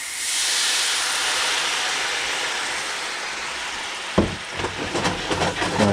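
White wine hitting a hot pan of seared salmon and softened ramps and morel mushrooms, a loud steady hiss of sizzle and steam that drops off abruptly, followed by softer clinks and bubbling.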